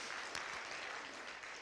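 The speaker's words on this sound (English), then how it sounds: "Let's give him a round of applause." A round of applause from a group at a gathering, dense and steady clapping for under two seconds with no one talking over it.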